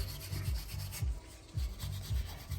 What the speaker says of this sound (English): So I will take this, I will keep brushing this